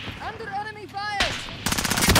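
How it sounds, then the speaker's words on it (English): Bursts of automatic gunfire erupt in Call of Duty: Modern Warfare, with rapid sharp cracks after game voice and tonal sound effects, loud and close. "Under enemy fire."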